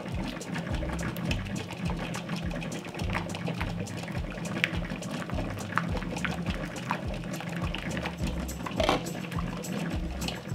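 A covered pot of jars in water boils on the stove with a continuous bubbling, rattling churn and scattered sharp clicks of glass against metal, steady and close, no voices.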